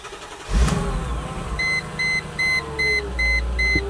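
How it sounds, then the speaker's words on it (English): A Mercedes G-Wagon engine cranks and catches after a jump start, then idles roughly while a rhythmic electronic beeping chime repeats over it. "It does start up now, but it does not seem to be running very happily."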